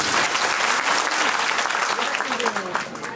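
Loud, dense applause from a student audience at a school motivational talk, continuous rapid clapping filling the room for a few seconds with voices mixed in.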